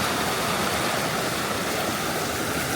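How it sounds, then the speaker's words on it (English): Steady, full-band rush of fast water pouring down natural rock slides in the Arizona and Utah canyon country, a loud, continuous hiss with no breaks and no voices. "You can see how fast the water moves down."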